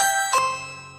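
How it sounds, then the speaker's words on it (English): A doorbell sound effect rings out as a single bright electronic chime, a sustained tone that rises sharply then fades slowly over about a second, heard alone. "The doorbell sound effect."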